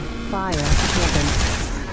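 A weapon fires in the indie PC shooter Beacon, a dense rapid burst of gunfire that starts abruptly after a short electronic whine and continues steadily to the end, loud and close.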